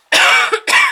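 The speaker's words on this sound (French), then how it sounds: "Mais comme d'habitude, je tousse." A woman gives two quick, sharp coughs close up, the second following after a short breath.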